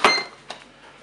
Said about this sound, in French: Je ferme le couvercle.